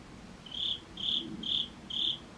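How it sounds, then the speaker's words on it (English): Crickets chirp outdoors at night in four evenly spaced, steady bursts, fairly clear over a low background hum. "I can't believe there are still crickets out here."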